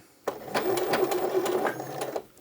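A sewing machine back-stitching on an A-line skirt, a close, loud rapid mechanical whirring and clatter that starts abruptly and runs for about two seconds before stopping.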